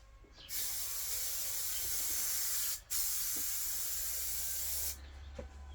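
Spray adhesive from an aerosol can being applied onto rubber and wood: two long, loud, close hissing bursts split by a brief pause, then quiet.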